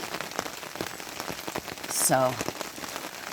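Rain patters steadily on surfaces around a solo canoe camp, a close continuous pattering with scattered drops beneath someone talking throughout.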